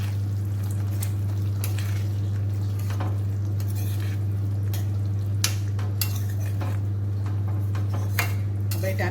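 Boiled potatoes being stirred into tomato gravy in a pan for homemade aloo capsicum sabzi, with steady scraping and clinking of a spoon against the pan over a constant low hum, plus a few sharper knocks.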